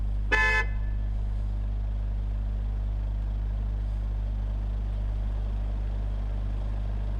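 MAN TGX 2020 truck in Euro Truck Simulator 2, driving at night: a steady, loud low engine drone runs throughout, with a brief horn-like toot near the start.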